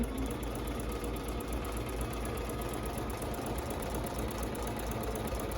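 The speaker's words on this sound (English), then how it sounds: "I can go ahead and sew at a 90-degree angle" A Bernina 790 Plus sewing machine stitches continuously at an even pace, a steady mechanical whir and rapid needle patter holding at a moderate, fairly quiet level with no talking.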